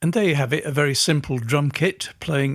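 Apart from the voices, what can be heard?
No everyday noises stand out.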